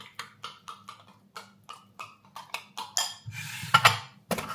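A spoon stirring ingredients in a bowl makes a regular series of scraping clinks against the side, roughly a dozen strokes, with a louder rattle and knock near the end.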